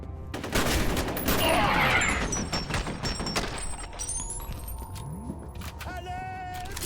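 Assault rifle fire in the shooter game F.E.A.R., a loud burst of rapid shots with booming impacts and ringing debris, followed by quieter game sounds.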